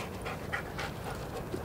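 A dog pants steadily and close by while heeling through a turn during obedience training, quiet breaths repeating in a soft, even rhythm with no talk.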